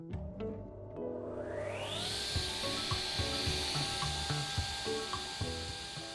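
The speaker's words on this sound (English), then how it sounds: "Some of the stuff like this saw bench is really powerful, and it does make a bit of a noise." A powerful saw bench in the Dalbeattie Men's Shed workshop cuts through wood, a loud, sustained whine that rises as the blade bites, with rough grinding texture and small knocks underneath.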